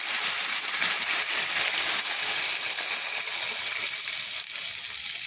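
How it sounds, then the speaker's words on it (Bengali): Water poured into a pan of braised chicken curry to make the broth gives a steady, even hissing splash that lasts throughout, with no talking. "এবার আমি একটু ঝোলের পানি দিয়ে দেবো।"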